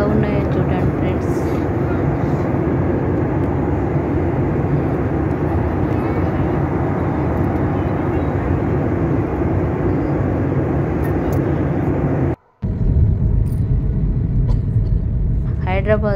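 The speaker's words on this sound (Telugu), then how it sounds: "హైదరాబాద్లో కిందికి వస్తుందండి ఫ్రెండ్స్ ఫ్లైట్" Loud, steady engine roar inside an airplane cabin as the aircraft descends to land in Hyderabad, continuous rumble with a brief dropout near the end.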